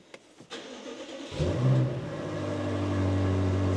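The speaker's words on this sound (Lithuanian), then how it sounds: "Tai dabar užvesiu mašiną" A BMW M5 engine cranks and catches when cold, then settles into a steady idle hum close by, after a few clicks.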